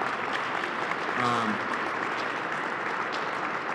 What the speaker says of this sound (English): I just want to give a round of applause to all the city staff that are here